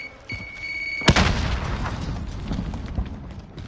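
A grenade detonates in a multiplayer military shooter game, a sudden loud blast followed by a long rumbling roll-off and scattered debris, with a brief electronic beep tone just before it.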